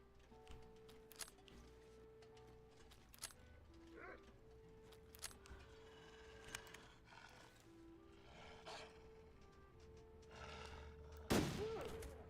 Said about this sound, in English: I really want to up my rifle skill, which is why I'm even bothering to take these shots.